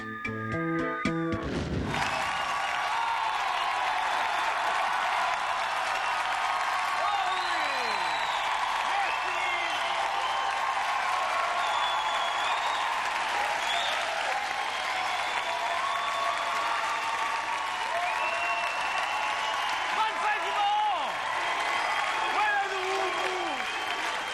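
A French Quebec late-night comedy studio audience applauds loudly and steadily, a dense continuous clatter of clapping with occasional whoops that carries on throughout.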